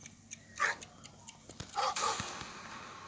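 A dog barks in the video game Schoolboy Runaway, with a few sharp, separate barks, one early and a quick pair near the end, over a quiet game background.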